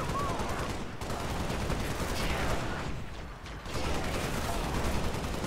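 Shotgun fire in the video game Halo Spartan Assault, steady bursts of gunfire and blasts, fairly quiet, under a continuous battle din with a brief lull near the middle.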